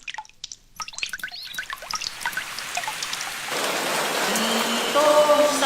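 Rain begins with scattered drips and taps, then thickens into a steady, close hiss of downpour that grows louder toward the end.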